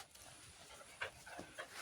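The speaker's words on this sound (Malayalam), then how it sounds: "ഇനി നമുക്ക് കാണാനുള്ള എൻ്റെ പട്ടിയാണ്" A pet dog pants quietly at home, with soft rapid breaths and a few faint louder huffs, low in level against a quiet background.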